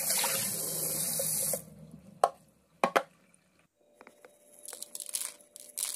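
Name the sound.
tap water running while rinsing liver in a sink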